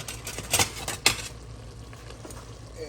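A spoon stirs lasagna sauce in a pot, giving a few scraping strokes with two sharper clinks in the first second, then a soft steady sizzle continues underneath.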